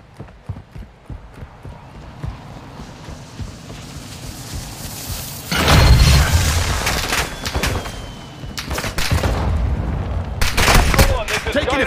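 Gunfire and explosions in a multiplayer shooter video game, with dense bursts of shots and booms swelling loud in the second half over a constant background rumble, and a voice calling out during the action.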